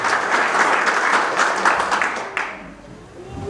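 Seminar audience applauding at a marketing plan presentation in Tasikmalaya, a dense burst of many hands clapping that fades out toward the end.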